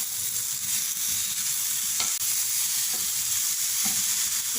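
Finely chopped medium tomato frying with onions in a pan, a steady soft sizzle with occasional stirring clinks, close and moderately quiet, no talking.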